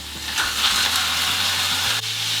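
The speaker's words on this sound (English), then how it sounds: "Oh, you can hear the sizzle." Ground beef sizzles in hot olive oil in a pan, a loud, dense crackling hiss that runs unbroken, with a brief scrape partway through.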